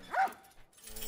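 A dog barks once from The Last of Us remake on PS5: a short, mid-loud yelp early on, followed by quieter game ambience.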